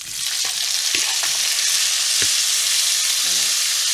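Chunky cut vegetables for couscous royal, including carrots, turnips, celery, tomatoes and peppers, frying in a pan with meat juices, a loud continuous close sizzle with a few scrapes and clinks of stirring.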